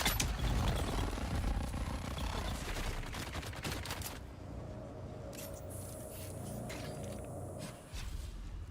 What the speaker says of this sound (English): And start shooting.